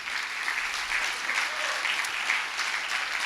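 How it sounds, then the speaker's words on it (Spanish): A church congregation claps steadily, a dense wash of applause at moderate distance with no pause. "¿Le puedes dar un aplauso al Señor?"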